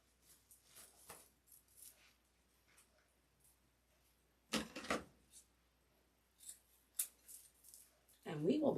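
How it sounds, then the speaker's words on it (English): Scissors cut ribbon tails on a St. Patrick's Day deco mesh wreath, giving a few quiet snips and rustles with louder bursts of handling noise, while a person talks at times. "And then trim these tails."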